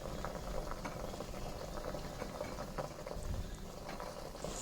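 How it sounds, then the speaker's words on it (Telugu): Herbal leaves simmering in oil for a homemade hair oil, giving a steady, dense bubbling and crackling boil that runs evenly throughout with no voices. "మీడియం ఫ్లేమ్లోనే ఉడికించుకోవాలి, లేదంటే పొంగుతుంది."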